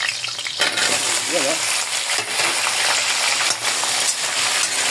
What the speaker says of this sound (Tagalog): bago natin prito yung ating baka, prito muna natin ito nga. Tawag dito, patatas natin.